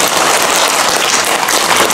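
A lecture-hall audience at a district office auditorium claps loudly and continuously at a special talk, a thick wash of hands close and full throughout.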